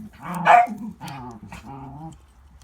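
A dog barks loudly and close by, a few sharp barks followed by lower growling yips, with brief pauses between bursts.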